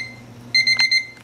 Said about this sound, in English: You can hear the timer going off.